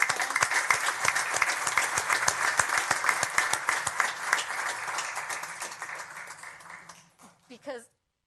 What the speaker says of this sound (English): let's give your parents that supported you a big hand